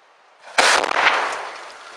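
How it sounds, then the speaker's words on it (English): A thermite box cutter held against a steel column with magnets ignites and blows off with one sharp, loud burst, followed by a short roaring fizz that fades over about a second. "I think my box cutter blew about 30 feet up"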